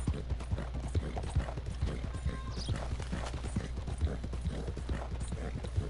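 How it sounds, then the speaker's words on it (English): Horse hooves clip-clop in a steady, brisk rhythm from a PS4 video game, fairly close and moderately loud, accompanied by faint creaking tack and a low ambient background, with no talking. "I heard some horses."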